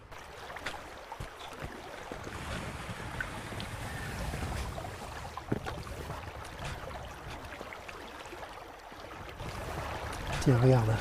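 A mountain torrent in winter rushes steadily with a broad, continuous roar of flowing water, close and fairly loud throughout, with a faint low rumble near the end.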